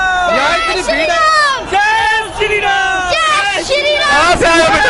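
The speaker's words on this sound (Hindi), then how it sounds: "यहाँ इतनी भीड़ है" A large crowd at a Modi election rally in India makes a loud, dense hubbub of many overlapping voices calling and chattering close by, with no break for the whole stretch.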